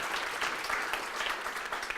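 An audience at a blockchain and fintech talk gives a round of applause, with continuous, fairly soft and evenly textured clapping from a moderately distant crowd throughout the short stretch.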